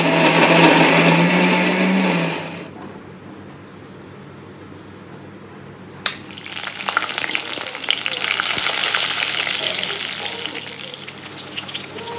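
An electric blender grinds onion, garlic and tomato into a paste, a loud steady whir that stops abruptly, then after a pause and a sharp click starts again and runs on continuously.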